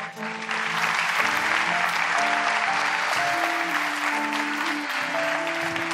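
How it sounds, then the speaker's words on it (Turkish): A live studio audience at a Turkish talk show applauds in a steady, dense wash of clapping that lasts throughout, with faint music tones underneath. "Sahnedeki herkesi alkışla gönder."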